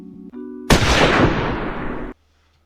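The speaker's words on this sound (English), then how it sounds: "He ain't had to put that gunshot in the video at the end of his story." A single loud gunshot-style blast bursts in after a brief low hum and tone, then decays as a long, noisy rumbling tail for about a second and a half before cutting off abruptly to silence.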